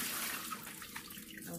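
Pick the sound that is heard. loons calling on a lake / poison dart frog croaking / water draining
water draining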